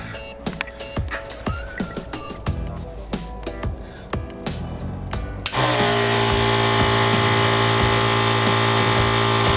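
Water cooling unit for a TIG welding torch starts up with a loud, steady motor-and-pump whine and hum that runs continuously after several preceding knocks and clicks.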